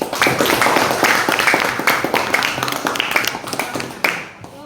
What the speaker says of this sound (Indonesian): Ya, tepuk tangan untuk mereka.